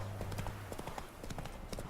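Hooves of Roach, a horse in a video game, clip-clopping in a quick, even walking rhythm, close and clear over a low background hum.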